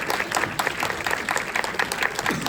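An audience applauding at a seminar, a dense, steady burst of many hands clapping in a large room, fairly loud and continuous throughout.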